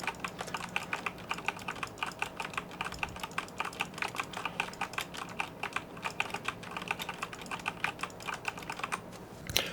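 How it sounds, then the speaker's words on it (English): Fast, continuous clatter of keys on a computer keyboard, including W, S, D, R and the spacebar, with mouse clicks mixed in. The tapping is close and steady with no speech over it. "I am now pressing the WSD key, spacebar, R key, and clicking on that mouse"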